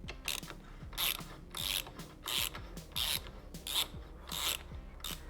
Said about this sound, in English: sometimes it helps to turn it with a wrench as you pull it back out